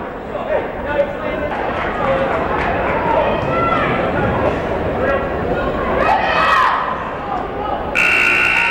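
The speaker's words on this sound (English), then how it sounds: "Part of the Raider cheering section." A Raider cheering section at a girls' high school regional basketball game, a loud continuous crowd roar with shouts and cheers swelling near the end, punctuated by a buzzer, with a commentator talking over it.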